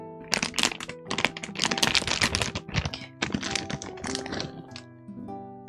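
A resealable snack package is handled up close, with a dense run of crackling, crinkling plastic and zipper-like clicks for several seconds before it fades to a lower rustle.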